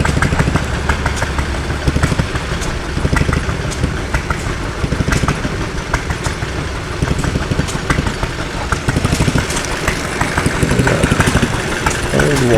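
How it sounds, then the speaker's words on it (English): A 1912 Olds Type 3 closed-jacket hit-and-miss engine built by Seager Engine of Lansing, Michigan, chugging loudly and up close with a steady rapid pulsing beat, mechanical clatter filling the whole stretch. "It says Olds Type 3 closed jacket engine."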